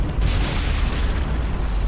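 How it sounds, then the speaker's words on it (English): Explosion at a church in Sniper Elite 5, a video game, sends out a loud, deep boom that rumbles on heavily for a couple of seconds, close and alone. "that church has had a bunch of explosions"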